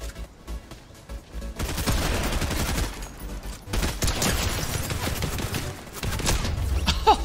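Dense bursts of gunfire from new weapons in the Fortnite video game, with rapid automatic fire and a 1v1 fight filling most of the clip, loud and continuous with brief gaps.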